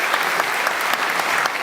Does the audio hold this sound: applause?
yes